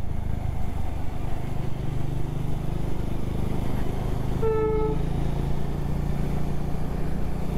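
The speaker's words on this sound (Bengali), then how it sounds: "এই দেখো ট্রেন আসছে, একটা ট্রেন।" A train approaching on the coastal line near Rameswaram, a low steady rumble beneath a single clear horn toot midway through, heard alone without talk.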